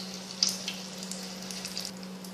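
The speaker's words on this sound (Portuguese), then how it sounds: "O óleo tá muito quente, deixa eu dar uma baixada." Apple fritter batter frying in very hot oil in a pan, a steady close crackling sizzle with small pops, continuous and alone.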